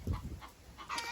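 Farm chickens cluck in a few short, soft bursts against a quiet background, with no talking.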